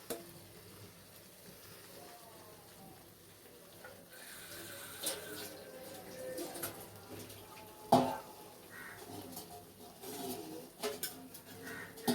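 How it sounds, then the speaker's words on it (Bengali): Chicken frying in masala gives a low, steady sizzle and stir, faint and close, with a brief clatter around the middle. "মাংসটা ভালো করে কষতে হবে।"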